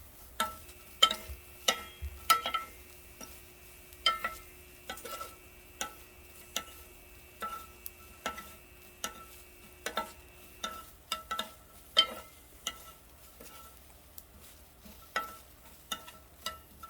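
Quiet, regular clicks and taps repeat about once a second over a faint, steady sizzle of vegetables such as watermelon rind, beet or amaranth greens dry-roasting gently in a pan, with no talking.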